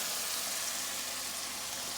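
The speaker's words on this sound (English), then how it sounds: "So I just want to fry this up a little, but while this is frying" Thyme and pepper fry in a pan with a soft, steady hiss and sizzle that runs evenly throughout, faint and alone with no talking.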